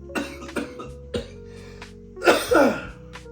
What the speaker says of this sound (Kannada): ತುಂಬಾ ಕೆಮ್ತಾ ಇದೀಯಾ? ನೆಗಡಿ ಇದೆಯಾ?